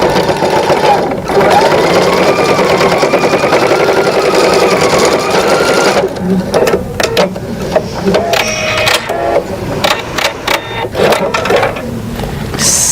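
A sewing machine runs steadily stitching a straight seam on a bag, then breaks into short stop-start bursts as the seam ends are backstitched, close and loud with no talk.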